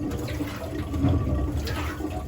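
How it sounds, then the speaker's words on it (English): Water sloshing and churning inside a rusty 1985 Honda Shadow 500 VT500C motorcycle gas tank, rust sediment rattling faintly in the swirling liquid, close and steady. "right now we're just dumping water in, and you're gonna hear, can you hear that?"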